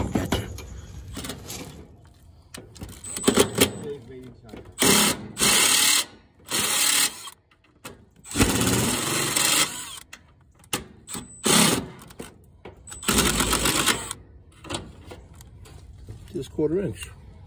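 A power drill spins out screws on the panel of an outdoor central AC unit whose fan motor is not running, with repeated loud bursts of whirring separated by pauses, plus clanks of tools and someone talking in between.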